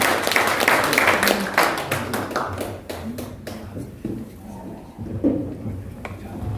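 Audience applause at a regional forum in Jeongseon, a burst of clapping from a crowd in a hall, loud at first and tapering off over several seconds as scattered claps fade.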